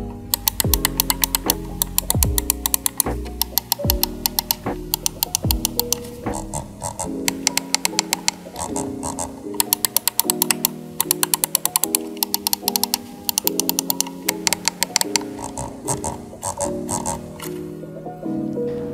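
Crisp, light switch clicks from a Pulsar X2 Wireless gaming mouse with KLGM switches, close and loud, coming in rapid irregular bursts and single taps throughout.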